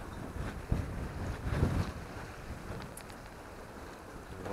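Steady wind of about Beaufort force 5 rushing past an open microphone on a moving sailboat near Stralsund, with broadband buffeting gusts and water noise, no voices.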